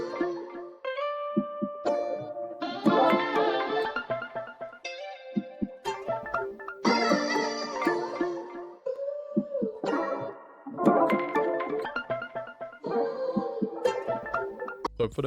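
An R&B vocal loop treated with flanger, tape saturation, reverb and EQ repeats in phrases of sung harmonies with swirling, washed tails, moderately loud with nothing else under it.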